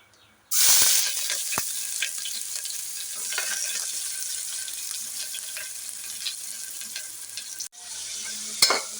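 Onion fries in hot oil with cinnamon and bay leaf, a loud, steady sizzle that starts suddenly, continues with occasional stirring clicks and scrapes, and ends with a brief pause and another burst of crackling.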